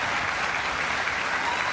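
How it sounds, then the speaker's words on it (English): An audience applauds after a ghost hunt event at Tudor World in Stratford-upon-Avon, a dense, steady wash of clapping from a crowd, loud and continuous throughout with no speech. "everyone deserves a very big round of applause"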